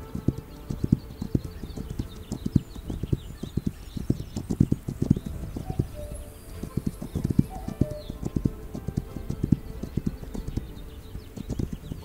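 Horse hooves clip-clop steadily in the video game This Land is My Land, a brisk, continuous trot of close, distinct thuds with no talking over it.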